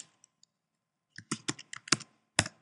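Sharp computer clicks and key presses, a few faint taps followed by a quick cluster of louder clicks, close and clear with no talking.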